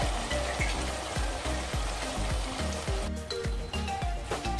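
Fish koftas sizzle steadily in hot masala in a pan on a low flame, with a dense continuous frying crackle and rhythmic soft tapping as each kofta is added, with no talk.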